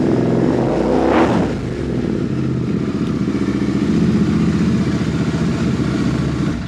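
A motorcycle fitted with an aftermarket BSA silencer ordered from Delhi idles with a steady, thumping low-frequency exhaust beat, close and fairly loud, running without pause throughout.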